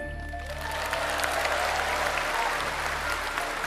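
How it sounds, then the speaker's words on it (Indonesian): A crowd at a political rally claps steadily and densely, a sustained wash of applause filling the whole stretch at moderate loudness. "Tepuk tangannya kurang semangat."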